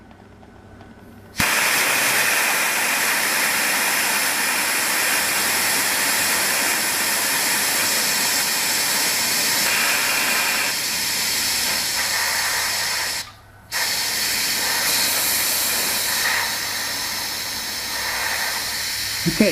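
A Bostitch BTFP02012 6-gallon 150 PSI oil-free pancake compressor releases air through its side drain, a loud, close, continuous hiss held for many seconds that stops briefly once and then resumes.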